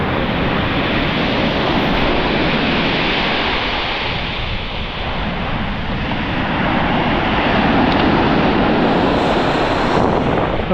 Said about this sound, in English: But just be careful of those waves.